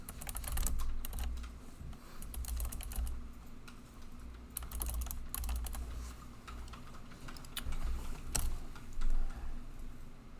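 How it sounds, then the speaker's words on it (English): Rapid, steady clatter of a computer keyboard as code is typed, close and fairly loud, with brief pauses between bursts and no talking. "If I can type this correctly"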